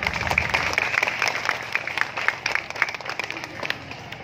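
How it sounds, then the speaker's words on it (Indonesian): Applause from a live audience at a stage hypnosis show, a dense patter of many hands clapping steadily and fairly close, lasting the whole stretch before tapering slightly. "Tepuk tangannya"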